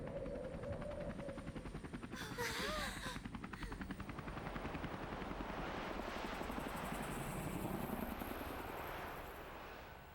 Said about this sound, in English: Was that the copter in the very beginning this whole time?